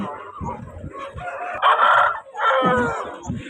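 A rooster crows loudly twice close by at a poultry market, its calls rising over a steady murmur of people talking and clucking hens.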